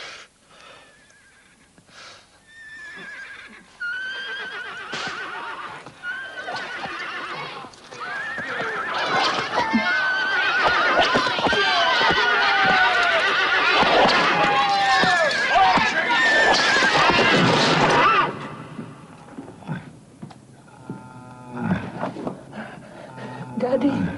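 A horse neighs and whinnies repeatedly amid clattering hooves, snorts and heavy panting, building to a loud frantic stretch while voices shout and talk throughout, then easing back.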